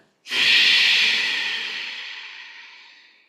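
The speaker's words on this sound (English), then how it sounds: "make sure you engage the navel to push the breath out. So it makes it a little bit louder than normal." A single forceful exhale is pushed out through the nose or mouth from the navel during a breathing exercise, a loud, close, airy rush that starts abruptly and slowly fades over about three seconds.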